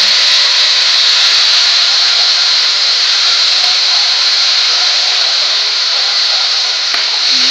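Ginger paste and tomato paste hit a hot pan for a vegetarian paneer curry, giving a loud, steady, hissing sizzle that holds evenly throughout, alone without speech.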